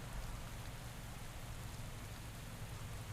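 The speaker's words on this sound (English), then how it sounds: "This is dangerous in the rain." Steady hiss of rain falls without pause during a road race in the cycling game Pro Cycling Manager 2021, with no voices.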